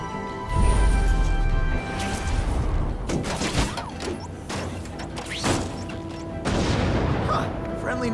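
Deep booms and crackling bursts of fireworks in the video game The Amazing Spider-Man 2 rumble continuously, with scattered bangs and mechanical clatter in a busy, noisy mix.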